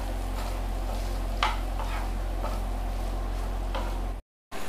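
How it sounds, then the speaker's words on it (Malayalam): Rice and salt stirred into softened onions in a pan for lemon rice, a steady low frying hiss under repeated soft scraping strokes of a spoon, ending with a brief drop to silence. "ഇനി നമുക്ക് ചോറിട്ട് കൊടുക്കാം. കുറച്ച് ഉപ്പിട്ട് കൊടുക്കാം. നല്ലോണം നമ്മൾ മിക്സ് ചെയ്യുക."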